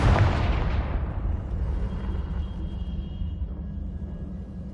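A Confringo blasting spell explosion in Hogwarts Legacy, one loud booming burst at the start that decays into a long rumbling tail fading over several seconds.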